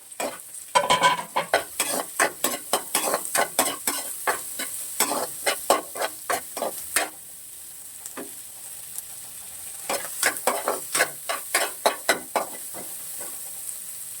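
Garlic and onion sizzling as they sauté in a hot pan, with a rapid series of crisp stirring scrapes against the pan over a steady frying hiss, close and fairly loud, no talking.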